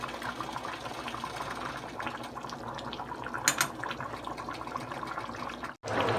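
Pumpkin soup simmers uncovered in a pot, giving a quiet, steady bubbling and gurgling with a brief clunk and a short drop-out near the end.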